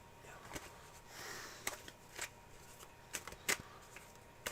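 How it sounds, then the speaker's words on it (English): Tarot cards shuffled by hand in a quiet room: soft papery riffling with a few sharp little snaps and clicks, faint and close, with no talking. "Give them a nice clear shuffle."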